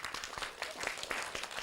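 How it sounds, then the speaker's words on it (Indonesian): Scattered claps from a student group at a campus orientation event, a handful of separate hand strikes with a fairly faint, thin sound. "Woi, tepuk tangan dong"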